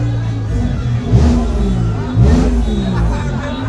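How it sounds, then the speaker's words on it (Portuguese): Motorcycles revving loudly at a large street protest in Natal, Brazil: a dense, deafening engine roar with surging revs over crowd hubbub and babble, close and continuous throughout. "As motos fazem muito barulho, um barulho ensurdecedor praticamente."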